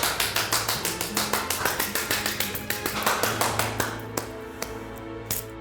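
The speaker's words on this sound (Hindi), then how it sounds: "मैंने तो बस अपने हिस्से की तालियां बजा ली" One person claps hands alone in a rapid, even rhythm of sharp, close claps that slow and thin out toward the end.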